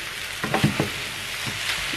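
Cold rice for egg fried rice sizzles steadily in a hot pan while a utensil scrapes and taps against the metal a few times, close by.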